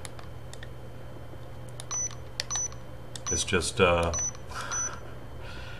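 Dashcam emitting short electronic beeps, several brief high tones scattered across the clip, with someone talking quietly in between and over a low steady hum.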